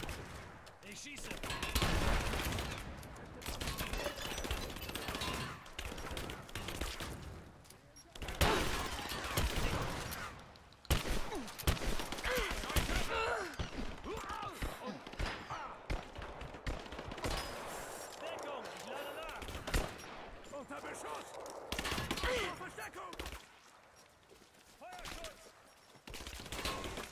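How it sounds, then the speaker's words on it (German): Gunfire in the action game Rise of the Tomb Raider, dense bursts of shots, shattering and blasts running almost continuously at varying loudness, with speech mixed in. "Ich schieße!"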